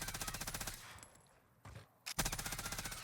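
Rapid bursts of MG82 machine gun fire in Warzone, a steady rattling string of close, loud shots that breaks off for about a second and then resumes.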